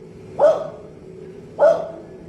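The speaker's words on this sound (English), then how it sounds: "staring down an empty aisle and barking non-stop as though something was standing there" A dog gives two sharp, loud barks about a second apart, close by in a quiet indoor space such as an empty store aisle.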